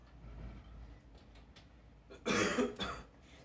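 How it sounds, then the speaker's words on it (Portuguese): One close, loud cough bursts out after a quiet stretch, followed by a smaller rough exhale. "Perdoa pela tosse, tá, gente?"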